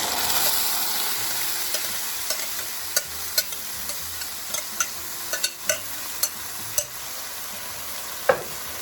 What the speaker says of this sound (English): When you're frying garlic. So we don't want the garlic to fry up too much, okay?